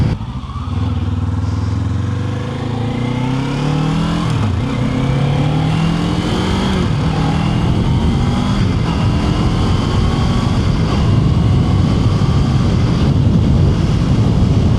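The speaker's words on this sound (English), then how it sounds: "That was probably some of my better shifting there." A 2025 Kawasaki Ninja 500 motorcycle ridden up close, its engine droning loudly and climbing in pitch through several gear changes, with the rising and falling revs of each shift heard clearly and continuously.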